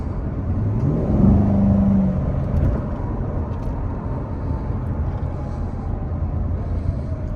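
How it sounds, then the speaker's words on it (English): A V8 car engine with 70,000 miles runs steadily and loudly nearby, revving up briefly early on before settling into a low, continuous rumble. "Can't beat the sound of a V8"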